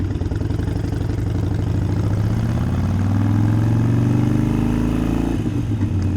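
A Harley-Davidson Sportster rumbles loud and close while riding, its low throbbing engine note rising and falling through gear changes with no one speaking.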